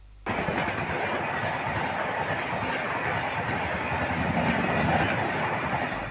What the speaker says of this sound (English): Coromandel Express leaving the Balasore railway station.